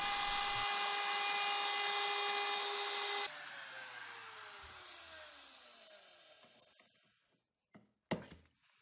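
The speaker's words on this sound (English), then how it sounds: "mahogany is one of those woods that sands very easily" A power sander runs loudly, chamfering the end of a mahogany keepsake box, then cuts off with a falling whine as it spins down, followed by a couple of brief knocks.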